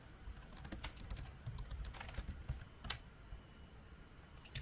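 Quick, irregular clicks of typing on a computer keyboard, close and steady throughout, with brief pauses between bursts of keystrokes and no voices.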